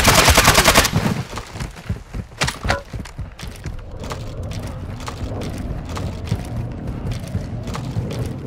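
Gunfire in a war video game: a rapid burst of automatic fire opens, then scattered and clustered shots, thuds and mechanical clicks continue loud and close throughout.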